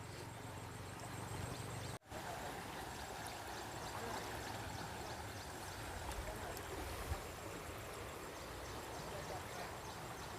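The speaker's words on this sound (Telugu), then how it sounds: "వాటర్ ఫుల్గా వస్తున్నాయి ఫుల్గా వస్తున్నాయి అక్కడ చూడండి ఎలా వెళ్తున్నాయో వాటర్" A flooded Gujja stream rushes past in spate, a steady, dense roar of churning water that fills the whole clip without pause, apart from one brief dropout near the start.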